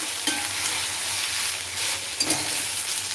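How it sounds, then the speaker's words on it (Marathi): Onions sizzle and hiss steadily in a hot pan, with a few louder crackles and the scrape of stirring; no voices. "कांद्यांना परतवून घेऊ एकदा"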